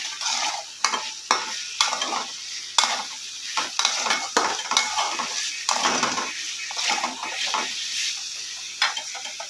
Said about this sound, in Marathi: मला असं चांगलं परतून घ्यायचं.